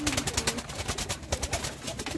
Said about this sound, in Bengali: এটা কিন্তু আছে আমার হুমা কবুতরের বেবি